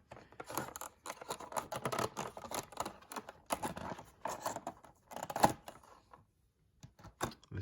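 A model airplane box is opened and its plastic packaging handled, producing close, quiet crinkles, clicks and scraping rustles in irregular bursts with brief pauses.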